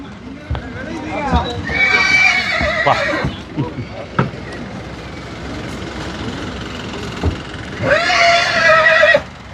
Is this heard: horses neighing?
yes